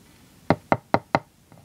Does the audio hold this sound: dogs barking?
no